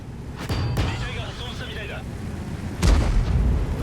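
A tank's ammo rack detonates in the World of Tanks video game, heavy booming blasts with a deep rumbling burst near the start and another loud boom later, over a continuous rough battle roar.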